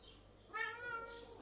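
A cat gives a single clear meow, close and fairly soft, in a quiet indoor room.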